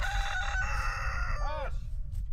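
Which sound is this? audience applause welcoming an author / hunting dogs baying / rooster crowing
rooster crowing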